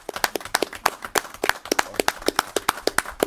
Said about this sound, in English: our city controller deserves a round of applause